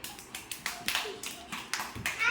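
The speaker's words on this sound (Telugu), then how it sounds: "క్లాప్స్ కొట్టండి అన్న క్లాప్స్ కొట్టండి" Children play a handkerchief game at an anganwadi, clapping their hands in quick, uneven bursts while a voice speaks briefly over them.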